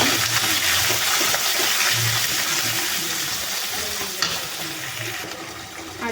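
Ground onion and coriander paste cooking with chicken in a pan for homemade chicken gravy, a continuous close hissing sizzle with faint scraping, steady and then easing slightly toward the end.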